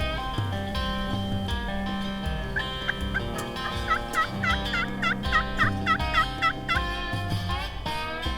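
In the Ontario spring woods, a wild turkey gobbles with several rapid rattling bursts, fairly distant, amid quiet outdoor background sound.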